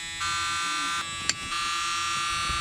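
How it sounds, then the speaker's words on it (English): The key buzzer of an old Mercury car gives a steady electronic buzz, briefly interrupted once by a click, then resumes without a break. "You can hear the key buzzer."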